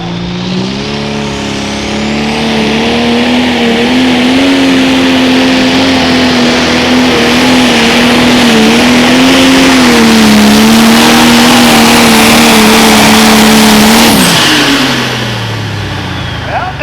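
A pro stock pulling tractor with a 680 cubic inch engine, 5-inch charger and no intercooler roars at full power for a long, steady pull, dropping off near the end, loud and close.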